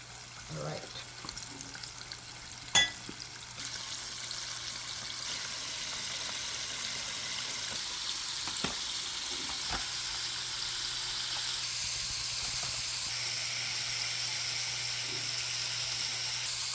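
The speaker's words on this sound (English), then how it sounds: "so now I'm going to put my chicken in. And guys, this take about 3-4 minutes to fry." Buttermilk-battered chicken nuggets sizzle steadily in hot oil in a pot, a continuous bubbling hiss with a few stirring clinks and knocks, faint and alone without talk.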